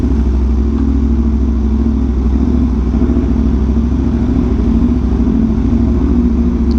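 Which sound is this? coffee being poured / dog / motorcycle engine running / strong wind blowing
motorcycle engine running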